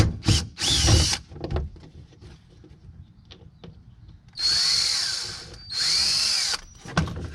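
Power drill backing screws out of a 220/240 volt spa's side panel: short bursts of whirring motor at the start, then two longer, steadier whines later, with quiet clicks and handling noises between them, close and without talk.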